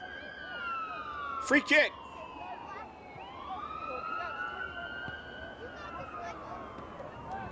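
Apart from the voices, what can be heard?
ambulance siren going by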